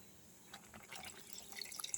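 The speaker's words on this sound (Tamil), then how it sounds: "சாம்பாரில் வேண்டிய அளவுக்கு தண்ணி ஊற்றியாச்சு" Water pours into sambar cooking in a pot, giving a faint, soft splashing and trickling that grows a little louder toward the end, with no talking.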